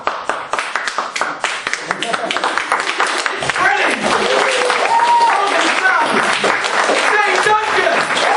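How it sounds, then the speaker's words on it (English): A comedy club audience in Lancaster breaks into scattered clapping that builds into fuller applause. Music and a brief spoken prompt sit under and around it. "start clapping"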